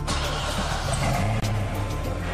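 A Corvette ZR1 C6 engine starts for the first time on the factory line, rumbling steadily up close in a deep continuous roar with a brief dip in the middle.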